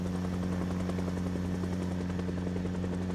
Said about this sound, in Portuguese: Dá até pra evitar o helicóptero a pé se você tomar cuidado.